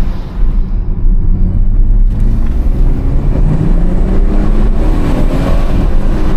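A BMW 116i with an M2 conversion and a B58 engine, heard from inside as a loud, steady engine drone with rising pitch as it accelerates through the gears, with no talk.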